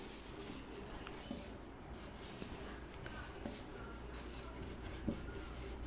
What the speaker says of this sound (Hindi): यहाँ पे मैं लिख रहा हूँ